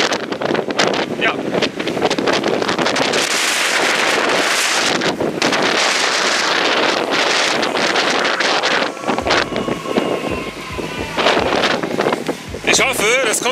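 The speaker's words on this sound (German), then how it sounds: "Also hier ist es extrem windig" Strong stormy wind buffets the microphone during a long scooter ride toward Belgium, a loud roaring gusty rush that swells and dips, with a voice talking intermittently under it.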